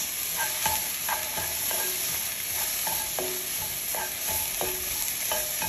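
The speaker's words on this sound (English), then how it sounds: "We're gonna add in our onions, followed by our celery." Onions, celery and carrots sauté in a soup pot, sizzling steadily up close while a spoon stirs them with repeated scraping and clinking strokes.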